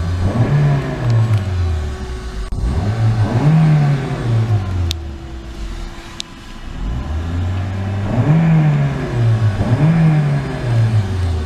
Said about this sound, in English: So we'll go ahead and give this one a quick rev and then cut it off.